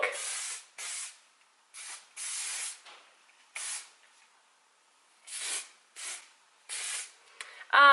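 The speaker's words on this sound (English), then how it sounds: "Take the hairspray again and hairspray the side that we just finished" Hairspray from an aerosol can sprayed onto freshly curled hair in short hissing bursts, about nine of them separated by brief pauses, close and clear with no talking.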